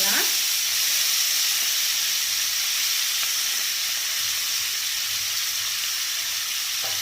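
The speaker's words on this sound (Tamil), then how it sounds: "ஸோ எண்ணெயில் போட்டோன்னே இந்த மாதிரி நல்லா பொரிஞ்சு வந்துடும்." Dried ghee fish and sliced onions fry in oil with a loud, continuous close-up sizzle and hiss that stays even throughout, nearly alone.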